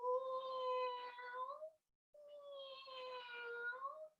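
A cat gives two long, drawn-out meows separated by a brief pause, clear and tonal with a rising and falling pitch, heard alone without talk.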